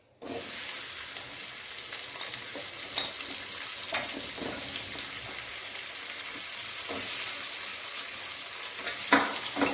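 Chopped onion sizzles in a little white oil for chicken butter masala, a steady close frying hiss with occasional scraping stirs and small crackles throughout.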